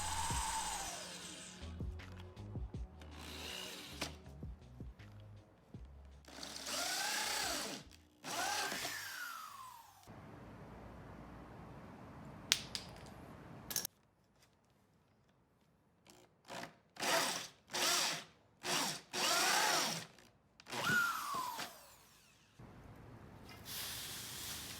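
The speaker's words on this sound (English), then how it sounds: "I'll use a power drill and a hole saw kit to drill a 2-inch in diameter hole" A power drill whines in repeated bursts as a 2-inch hole saw grinds through pipe, each cut rising then stopping, with quiet pauses between.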